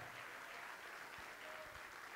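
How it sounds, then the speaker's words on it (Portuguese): Church congregation applauding in unison, a dense, steady wash of clapping that holds at an even level throughout, heard from a distance in a large room. "vamos aplaudir mais ao nome do Senhor"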